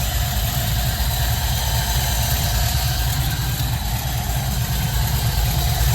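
A cold 1955 Ford Fairlane V8 idles steadily with the choke wide open on its rebuilt Holley 4000 carburetor, giving a loud, continuous low rumble with no breaks.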